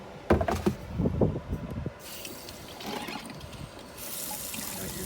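Water runs from a sink faucet in an RV after a few close clattering knocks, settling into a steady, fairly loud stream of flow that continues to the end.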